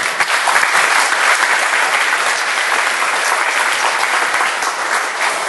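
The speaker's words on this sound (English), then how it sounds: "Please give them a round of applause" A large audience applauds loudly and continuously at a photo exhibition event, dense clapping holding at an even level throughout.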